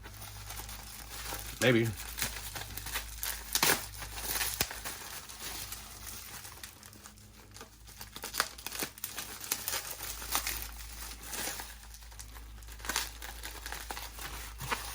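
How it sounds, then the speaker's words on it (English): Packing tape cut and peeled off bubble wrap around a shipped set of figures, crinkly plastic rustles and a couple of louder crackling bursts close by, with a voice speaking briefly. "So I'll just cut through this tape here."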